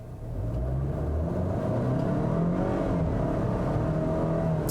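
A 2019 Volvo XC40 T5 accelerating from inside the cabin, engine note rising steadily through a smooth gear shift, loud and continuous with no talk.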